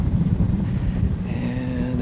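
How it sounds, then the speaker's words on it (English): Low, rumbling wind buffeting a microphone, steady and close, with a faint tonal hum rising toward the end. "But it is windy."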